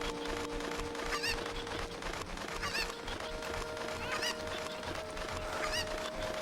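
A chicken in The Legend of Zelda Ocarina of Time gives short squawking clucks, repeated about four times at even intervals over a steady game background tone.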